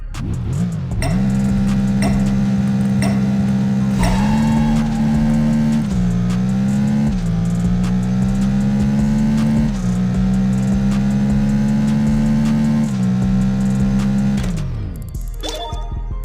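A NASCAR stock car in the Apex Racer video game runs a half-mile race, its engine droning loud and steady through gear shifts. The pitch climbs and dips across the run, then drops off sharply near the end, with no talk.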